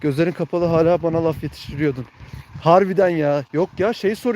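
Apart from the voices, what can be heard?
No distinct noise like a dog, phone or traffic.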